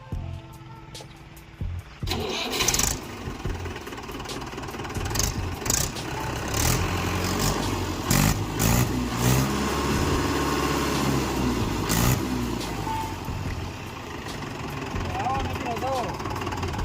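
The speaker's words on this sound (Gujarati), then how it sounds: "હવે ટ્રેક્ટર તમને ચાલુ કરીને પણ બતાવીશું" A second-hand Mahindra 475 DI tractor's diesel engine turns over and settles into a steady, rumbling idle, with clattering mechanical noise and a person speaking over it.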